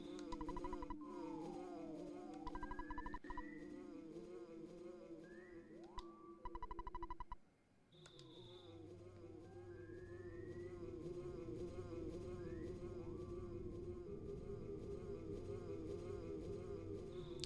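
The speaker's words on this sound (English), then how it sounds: "I love now that we just have this sound of the bee around us forever." A looping synthesized bee buzz from the Earthbound video game hums steadily alongside chiptune game music and effects, with a brief dropout before the buzzing resumes.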